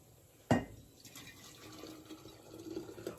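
Boiling water poured into a glass jar while pickling okra, a sharp splash at the start settling into a steady close pour and trickle.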